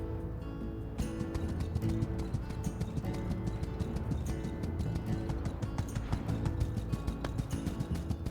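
A horse gallops in the video game My Time at Sandrock, its hooves striking in a quick, steady clip-clop rhythm throughout, fairly faint under game ambience.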